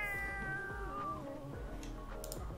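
A cat meows repeatedly in The Sims 4 with a long drawn-out yowl and then shorter calls, quiet and alone with no talking.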